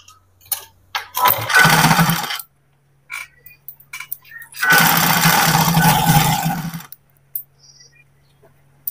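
Electric sewing machine stitching an Afghani salwar, two long steady whirring runs of rapid needle strokes, each a couple of seconds, split by short pauses with light clicks and handling of the cloth.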